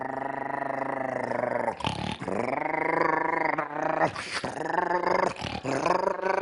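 A voice imitates a Tosa fighting dog's growl in a lecture hall, with loud, close, sustained throaty rumbles broken by short breaths between the growling bursts.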